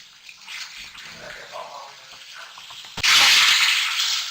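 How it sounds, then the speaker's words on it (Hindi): Chicken stock (yakhni) is poured into a pot of fried chicken and masala for pulao: a light sizzle and bubbling first, then a sudden loud, steady gush of liquid that continues to the end. "इसके अंदर मैं यखनी डाल दूंगी"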